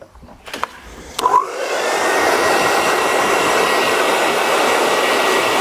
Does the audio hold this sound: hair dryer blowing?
yes